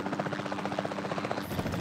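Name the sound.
helicopter in the video game Jurassic World Evolution 2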